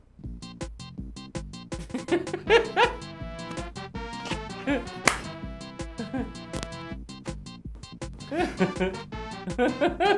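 A puppy yips and barks in short, rapid bursts over upbeat, rhythmic music during the Soul Puppy Dance clip, with people talking and laughing over it at times.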